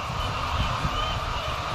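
Chickens clucking and squawking in a crowded poultry shed, a dense continuous chorus of fowl calls heard close by without talk.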